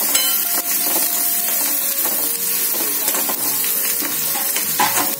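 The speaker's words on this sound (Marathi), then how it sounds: "छान असं आपण गुलाबी करून घेऊया हा कांदा" Onion sizzling steadily in a pan as it fries until pink, a continuous bright hiss and crackle with occasional stirring scrapes, close and loud.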